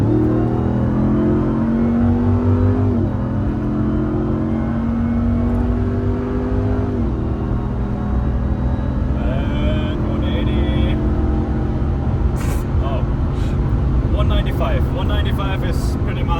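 A stock 707 hp Dodge Ram TRX pickup accelerating hard on the German Autobahn, a loud, sustained engine roar rising through gear changes with a brief dip at each shift, heard from inside the cab with wind and road noise.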